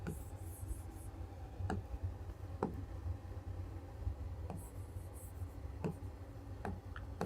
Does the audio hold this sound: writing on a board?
yes